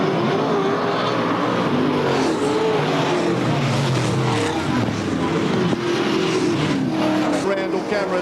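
Super sedan race cars roar around the Archerfield Speedway oval, engines droning loud and continuous as they run down the back straight into a turn, with a commentator talking over the noise.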